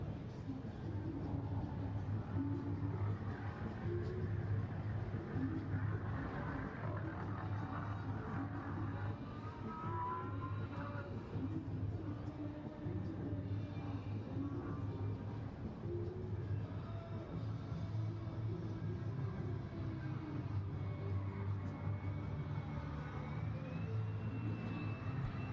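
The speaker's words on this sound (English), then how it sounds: "Major Clark will select Max Afterburner to display the sheer power of the Pratt & Whitney motors as he climbs away from the deck" A distant military jet with Pratt & Whitney engines climbs away on max afterburner at a naval air station air show, a steady broad roar with a faint rising tone throughout and no clear voices.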